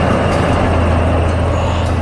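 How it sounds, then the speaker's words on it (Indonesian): An animated steam train runs past a quiet village, a loud, steady low rumble and rolling rail hum held throughout without breaks or talk. "kereta uap itu melaju dengan anggun membelah pemandangan desa"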